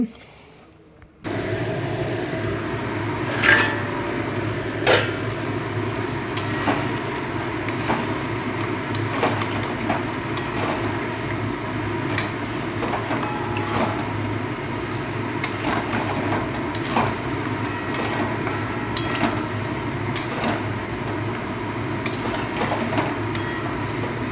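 Pieces of fish are turned and stirred in a pan with thick, dry spice masala and no water, giving steady scraping and frequent light clicks and knocks of the spatula against the pan throughout.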